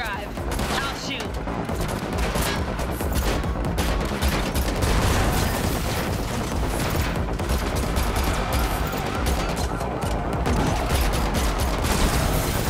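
Sustained gunfire in The Matrix Awakens Unreal Engine 5 demo, a dense, loud, continuous fusillade of rapid shots with mechanical clatter during a driving chase, a voice faintly underneath.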